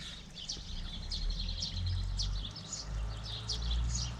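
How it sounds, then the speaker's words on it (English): Many small birds chirp and twitter continuously in countryside near farms along a river, against a low rumbling background of tractors, moderately distant and fairly quiet. "A lot of birds."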